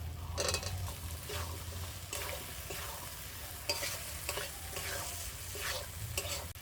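Fried potatoes are stirred into a sizzling curry of sautéed spices, sugar and cashew paste, with repeated scraping strokes over a constant hiss of frying. The sound is close but quiet, and no one speaks.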